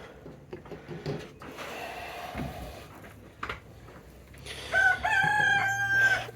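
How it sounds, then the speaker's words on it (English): A hen indoors clucking and a rooster crowing, scattered soft clucks and rustling early on, then a loud, close crow rising near the end, with no talk over it. "do we have a chicken in here? Yep, we do."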